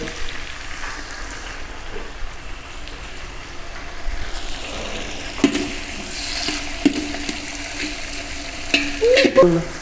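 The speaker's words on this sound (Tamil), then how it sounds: "பச்சை மிளகாயெல்லாம் எல்லாம் நல்லா தாளிச்சிடலாம்" Steady sizzling of onions and green chillies frying in hot oil, with occasional stirring clinks and scrapes near the end.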